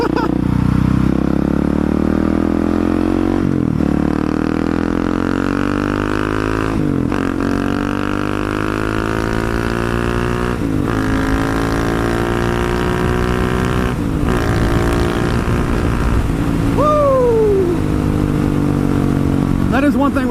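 A Honda Grom or supermoto motorcycle rides around a roundabout, its engine droning steadily and close throughout, with pitch shifts as it slows and accelerates through the turn.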